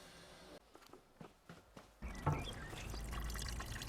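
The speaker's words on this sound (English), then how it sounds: "This will allow water to flow freely into the hose pipe and down into my drain." Water draining from a radiator valve through a hose pipe into a drain, faint trickling and dripping at first, then a steadier louder pouring flow for the last couple of seconds.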